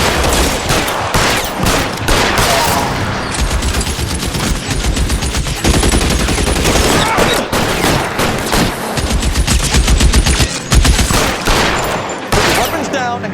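Gunfire rings out during a police shootout in the L.A. Noire video game: dense, continuous bursts of loud shots and rapid fire, overlapping with almost no pause for the full length.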